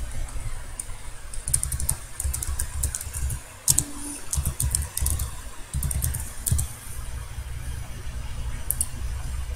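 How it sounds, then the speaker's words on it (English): Someone types a name on a computer keyboard, irregular clusters of crisp close keystrokes with brief pauses, over a steady low background hum. "Just type in your name or YouTube username,"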